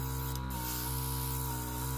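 An airbrush hisses in a steady spray of nail alcohol ink alongside a constant mechanical hum, with a brief burst of stronger hiss near the start.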